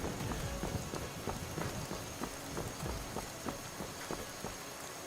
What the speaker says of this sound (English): Just getting like a light rain.